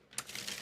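A deck of game cards being shuffled at a tabletop miniatures game session, giving a soft, continuous papery riffle and flutter that runs steadily at close range with a few sharper snaps.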